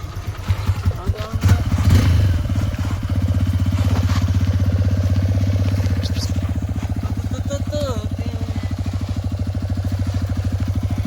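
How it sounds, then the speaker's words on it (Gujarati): A motorcycle-like engine starts with some clatter, then idles in a steady, close, rumbling chug for the rest of the time while people talk over it. "તમારી ગાડીનો અવાજ ધીમો રાખવાનો"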